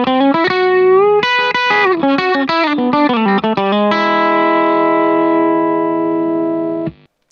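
Clean electric guitar through a compressor pedal with the blend knob cranked fully up, picking a quick country-style lick that ends on a long, evenly sustained chord ringing for several seconds before cutting off.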